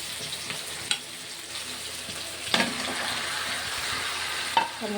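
Tomato fries in oil with ginger and garlic, giving a continuous close sizzle broken by a few sharp clinks of a spoon stirring the pan.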